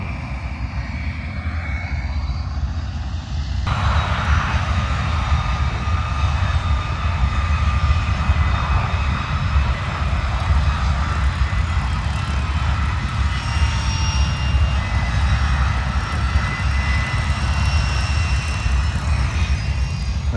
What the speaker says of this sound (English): Bunch of L-39s just went out cruising together.